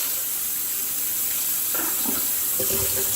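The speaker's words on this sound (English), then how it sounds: "my water looks nice and clean when I pour it out." Water pours and splashes from a container after washing dandelion roots. It is a loud, close, steady gush of running water with a few brief clatters toward the end, and no voices.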